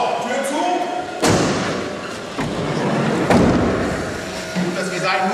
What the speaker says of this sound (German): So, Tür zu.